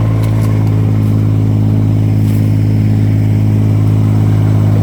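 A small vineyard tractor, the smallest machine used for pulling up diseased vines in a Champagne vineyard, runs with a steady low engine drone that stays loud and close throughout.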